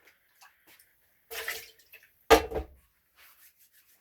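Malt barley drink poured into a cup, with a couple of short splashing pours and a few faint drips in an otherwise quiet room.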